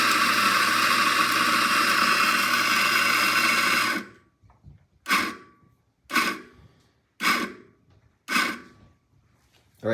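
A home espresso grinder grinds coffee into a bottomless portafilter in one loud sustained whir, then a string of short pulsed bursts with quiet gaps.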